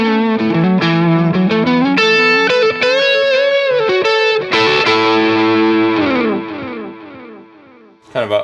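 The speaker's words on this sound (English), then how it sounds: "For this I use a mono tape delay" Overdriven electric guitar through a Fractal FX8 with a warm, tubey overdrive and mono tape delay, playing a sustained run of melodic phrases with repeats trailing behind the notes, loud and continuous before fading near the end, then a brief burst.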